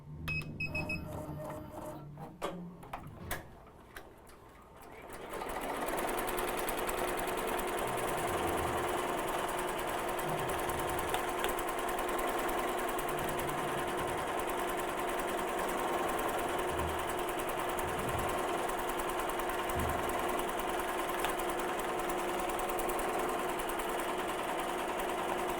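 An embroidery machine stitches a 3D puff design onto a hat. Some clicking comes first, then a steady, fast, mechanical whir and rattle that runs on evenly and loudly, with no talking.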